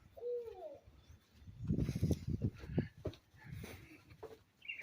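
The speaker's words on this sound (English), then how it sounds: "That's a barred owl" A barred owl's low hooting call rises over a quiet outdoor background, repeated a few times at moderate distance with some faint rustling between.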